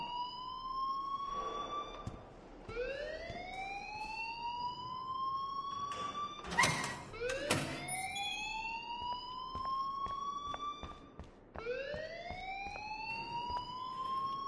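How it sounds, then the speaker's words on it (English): Alarm ringing in the Life is Strange video game, a wailing siren-like tone that sweeps upward repeatedly in rising whoops, with a brief burst of clatter midway and no voices. "please turn off that alarm since that's your job"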